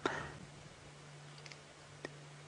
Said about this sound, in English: That's their bills clicking together. That's one of the calls they make.